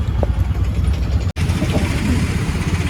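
A steady, low engine rumble from an auto rickshaw carrying two passengers putters on throughout, close by, with a brief cut midway.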